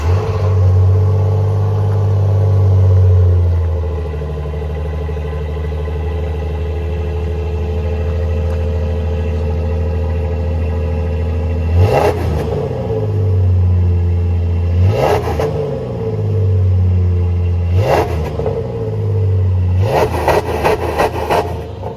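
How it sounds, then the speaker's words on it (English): Ford Ranger pickup with stock exhaust on a cold start, settling into a steady low idle drone, then four sharp throttle blips each rising and falling, the last a quick cluster of revs, close by. "This is a cold start stock."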